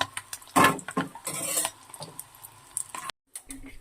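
Whole biryani spices, bay leaf, cinnamon, cloves, cardamom and peppercorns, hit hot oil in short hissing bursts, mixed with close clinks of a metal spoon against the pan.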